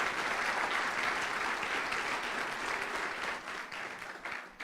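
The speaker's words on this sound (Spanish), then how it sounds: "Si le vas a dar un aplauso al Señor," Church congregation applauding enthusiastically, a dense steady wash of clapping from many hands that holds strong throughout and eases slightly near the end.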